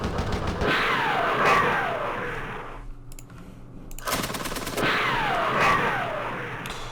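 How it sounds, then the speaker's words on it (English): Machine gun fire in the Vietnam war game Campaign Series Vietnam: two long rattling bursts of rapid automatic shots, split by a short, quieter gap. "These have machine guns. Let's utilize them."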